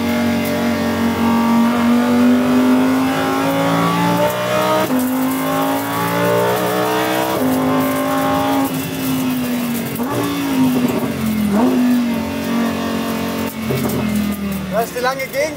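ABT XGT race car lapping a track, a loud, constant engine drone that surges and eases through acceleration and braking, close and continuous, with someone talking over it.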